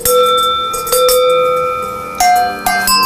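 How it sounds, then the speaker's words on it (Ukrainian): Metal livestock bells of different sizes, ranging from goat bells to a bull bell, struck one after another indoors. They give bright, loud rings with sustained overlapping tones. "Тут зібрані дзвони від кози до бика."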